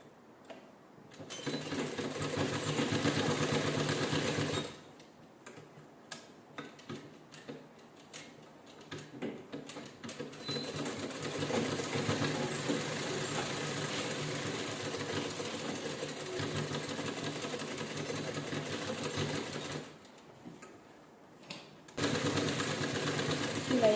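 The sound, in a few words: sewing machine stitching canvas all around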